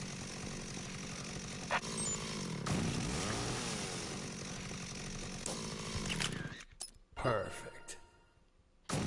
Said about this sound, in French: le bruit de la tronçonneuse, c'est insupportable